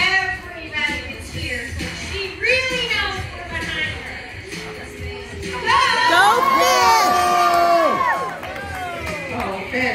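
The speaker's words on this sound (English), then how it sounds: "I want everybody to cheer" At the Purina Farms dog show, an audience cheers and shouts as a dog takes a jump, with children's high voices in the mix; the noise swells louder in the second half.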